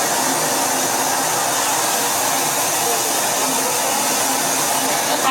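A water fountain runs with a steady broadband rush and splash of falling water, continuous and fairly loud throughout.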